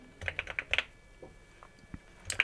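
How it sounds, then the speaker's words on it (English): Quiet, close keystrokes on a computer keyboard, a quick burst of several taps, a few isolated presses, then another short cluster at the end. "so we type cat"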